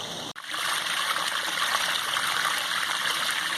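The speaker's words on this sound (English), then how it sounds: "sometimes you're sitting by your waterfall thinking to yourself, man, it's hot" A backyard garden waterfall pours steadily, a continuous broad rush of splashing water close by that runs unbroken after a brief dip at the start, with no talk over it.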